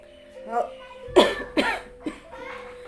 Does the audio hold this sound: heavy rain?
no